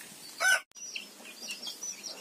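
Backyard chickens that drink water mixed with panchagavya give a brief loud cluck, then quieter chirps and clucks close by, with no talk.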